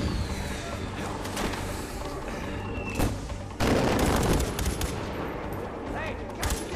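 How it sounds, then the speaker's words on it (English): Dense gunfire and booming blasts crash through a Far Cry 4 battle, with rapid bursts and heavier explosions from mortar fire, loud and continuous, and a voice talking briefly over the action. "Mortar that I heard?"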